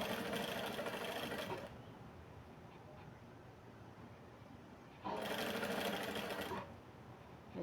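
A sewing machine stitches knit fabric strips for a rug in two loud bursts, running about 1.7 seconds, pausing, then running again for about 1.5 seconds, with quiet room tone in between.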